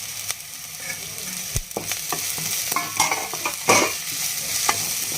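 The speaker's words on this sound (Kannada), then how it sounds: "ಸ್ವಲ್ಪ ಈ ರೀತಿ ಫ್ರೈ ಮಾಡ್ಕೊಳ್ಳೋಣ" Vegetables frying in a pan with a continuous sizzle and irregular clatter and scraping of a spatula stirring, fairly close and loud, without talk.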